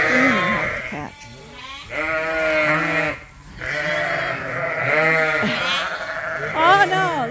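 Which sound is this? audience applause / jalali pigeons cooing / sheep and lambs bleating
sheep and lambs bleating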